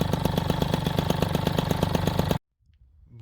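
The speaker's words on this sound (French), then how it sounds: "la mob a craqué, elle a démarré" Freshly rebuilt moped engine idling close by, a rapid even putter of regular beats lasting a couple of seconds before it cuts off abruptly to near silence.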